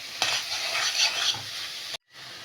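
Grated carrot sautéing in ghee for carrot halwa, a steady close sizzle with a few scraping stirs, cutting off abruptly near the end before a quieter hiss resumes.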